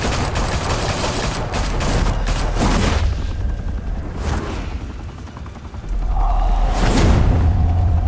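Rapid gunfire from an intense firefight in the video game Batman The Telltale Series, loud bursts of shots mixed with whooshes and heavy booming impacts that keep going throughout.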